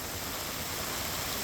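Heavy rain pours onto a road during roadwork tarring, a steady dense broadband hiss filling the short stretch without letup and no voices over it.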